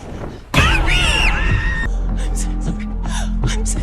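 A woman's sudden startled scream bursts out in a scene from the 2023 horror film The Offering, loud and close, followed by tense musical drones and ambient sound.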